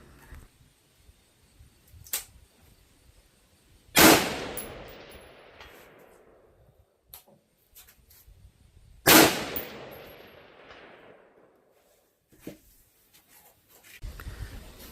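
Two loud rifle shots fired outdoors at a target 400 yards away, each a sharp crack with a long rolling echo, spaced about five seconds apart, with faint distant impact sounds and wind noise between them.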